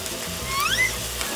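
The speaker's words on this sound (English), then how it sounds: "Put that right in the middle, let that sizzle." A beef burger patty sizzles steadily in a hot pan, a continuous crackling hiss heard up close with no talking.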